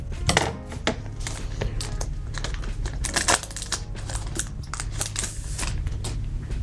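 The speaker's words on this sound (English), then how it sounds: "The scissors are out. Making sure not to cut any cards." Scissors snip and crinkle through the plastic packaging of Magic the Gathering cards, a close, irregular run of sharp cuts and rustling wrapper sounds with no talking.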